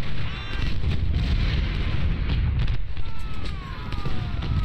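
Massed artillery and rifle fire from a Civil War battle in Ultimate General: Civil War, a dense, continuous rumble of booms and crackling shots with no pauses, loud throughout.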